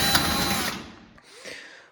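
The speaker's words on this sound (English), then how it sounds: "We're gonna remove 3 more screws, 1, 2, 3, to give us easy access to the fan motor." A power driver whirs briefly while removing screws from a Whirlpool oven range, one short high-pitched spin fading out, followed by a softer second burst.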